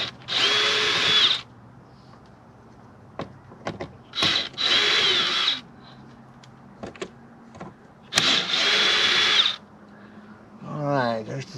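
A cordless power drill backs out three screws in three whirring bursts of about a second each, with handling clicks between them and a voice speaking briefly near the end.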